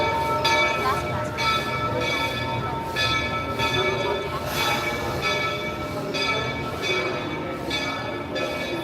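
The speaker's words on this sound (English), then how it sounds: "Familiar sounds of the train pulling into the station." Magic Kingdom park train arriving at its station, with a steady rumbling roll, repeated bell-like ringing and busy crowd noise throughout, moderately loud and continuous.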